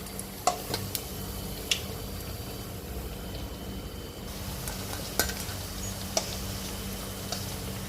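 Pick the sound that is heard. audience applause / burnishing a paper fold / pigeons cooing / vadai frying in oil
vadai frying in oil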